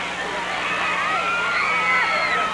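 Stadium crowd at a St. Mary's high school football game cheering and shouting steadily as a player leaves the field in the final minute, a dense roar with children's shrieks mixed in.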